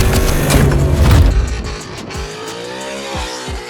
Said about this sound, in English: We're going to do some drifting.